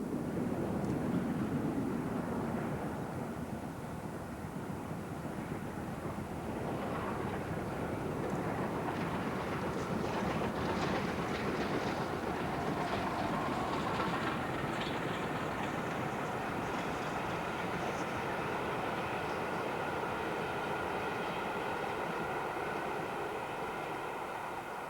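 The Flying Scotsman steam locomotive hauls a special train past, heard as a continuous rolling rumble and rattle of carriages at moderate distance, steady throughout without speech.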